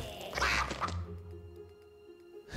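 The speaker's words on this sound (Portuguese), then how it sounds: "E a galinha faz o quê? Pocó." A chicken in the video game Lost in Play gives a short burst of loud, rapid clucking calls, then fades into a quiet, faintly ringing game background.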